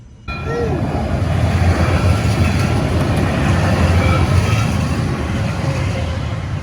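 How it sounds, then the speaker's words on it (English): Train passing close by near a pizzeria in Campbell, California, starting abruptly with a loud sustained rumble and clattering wheels that fill the whole stretch. "now that the train has passed us by"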